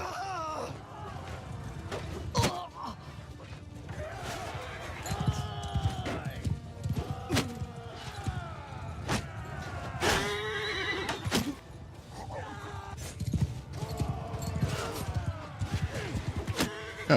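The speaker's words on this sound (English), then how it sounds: "I just shot his horse somehow" Horses in a medieval battle game neighing and whinnying repeatedly over a clatter of hooves, with shouts and battle noise mixed in throughout.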